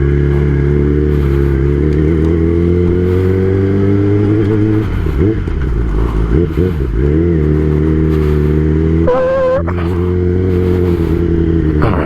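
A Kawasaki ZX10R sport bike drones steadily on a commute ride, its engine note loud and close, rising and dipping through gear changes with a brief rev spike near the end, with wind rush throughout.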